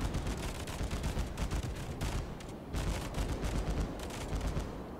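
Anti-aircraft guns in World of Warships blaze away in a dense, continuous barrage of rapid gunfire, loud and close, with a brief dip around the middle before the volleys resume.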